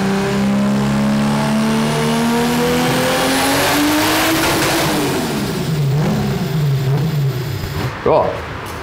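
A tuned car engine making around 862 hp and 1000 Nm revs on a dynamometer, its loud pitch climbing steadily toward the limiter before dropping away, with a brief sharp burst near the end.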